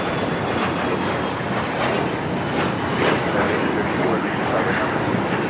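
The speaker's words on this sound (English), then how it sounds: "This is an Embraer Legacy 500 taking off." An Embraer Legacy 500 business jet takes off at Los Angeles airport, a loud, steady broadband engine roar that swells slightly midway and carries on without pause.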